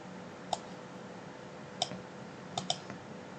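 Four sharp, light computer mouse clicks spaced irregularly across a quiet room-tone background, with a quick double click near the end.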